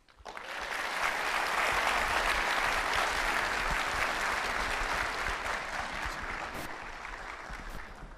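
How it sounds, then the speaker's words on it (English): An audience at the LIFTx 2018 event at MacDill applauds after a speech, with sustained dense clapping that rises quickly, holds steady for several seconds and slowly thins toward the end. "can I get another round of applause for Elizabeth Melendez Fisher?"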